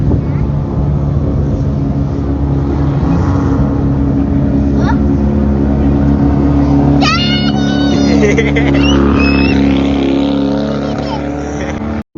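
Loud, powerful JDM drift car engine roaring continuously and revving hard, with a voice speaking partway through over the din.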